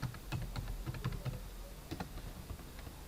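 Typing on a computer keyboard while entering a PowerPoint title, a quick run of close, light key clicks in an irregular rhythm.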